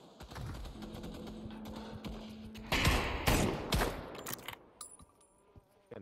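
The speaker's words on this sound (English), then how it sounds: "Where am I getting shot from?" Gunfire in the VR shooter Pavlov VR: rapid bursts of automatic fire, fairly faint at first, then louder clustered shots and cracks partway through, with no speech over it.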